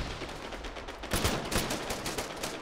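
Gunfire from an Arma 3 firefight, a dense run of overlapping rifle shots that swells loudly about halfway through and keeps cracking in quick bursts with no talk over it.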